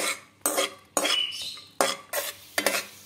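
Cashews and raisins roasting in ghee in a kadai, with a spoon scraping and clanking against the metal pan in four or five distinct bursts over a soft, low sizzle.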